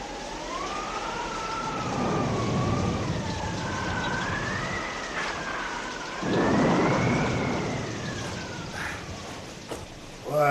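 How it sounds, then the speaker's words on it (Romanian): A rain and wind storm in a 1989 Romanian radio play of Caragiale's Două loturi, with howling wind rising and falling in pitch over constant rain hiss and a louder gust swelling midway. "Nu era de ajuns ploaia asta măruntă care ține de trei zile. Mai trebuia și vânt."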